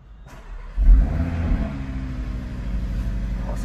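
Audi RS Q3 2021 SUV with a 2.5-litre five-cylinder engine starting up, a low rumble swelling into a brief rev and settling into a steady, fairly subdued idle, close by.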